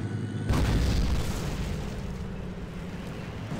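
Artillery fire in the Empires Source mod opens with a sudden heavy boom that rolls into a long, dense rumble, loud and close, with no talking over it.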